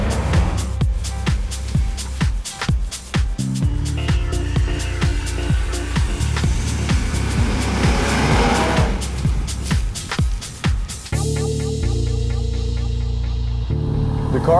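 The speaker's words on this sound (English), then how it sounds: "The car I'm driving right now is the 2-liter TFSI 4-cylinder petrol engine." A 2017 Audi Q5 2-liter TFSI four-cylinder petrol engine roars steadily as it drives along a beach in Mexico, the drone rising and falling with speed, with occasional clicks and rattles over the top.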